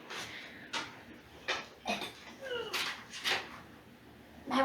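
A dog arrives indoors, pawing and scrabbling with soft whimpers and short whines in several separate bursts, heard up close.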